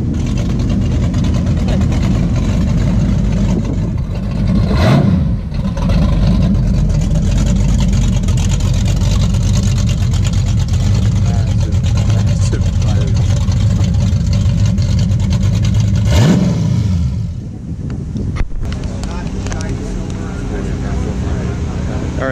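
A Chevrolet Camaro SS at an outdoor cars-and-coffee meet, its loud engine rumbling steadily up close with a couple of brief dips in level, set in a busy scene where voices can be heard.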